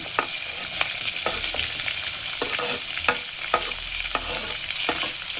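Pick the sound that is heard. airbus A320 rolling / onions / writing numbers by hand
onions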